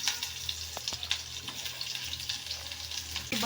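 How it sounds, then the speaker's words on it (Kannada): Onions fry in a pan for curd sambar, giving a steady crackling sizzle with scattered sharp pops and a faint low hum underneath, no voices. "ಮೂತಿ ದೂರಿಡು ನೋಡಿ ಹುರಿತಾ ಇದೆ. ಈರುಳ್ಳಿ ಹಾಕ್ತಾ ಇದ್ದೀನಿ."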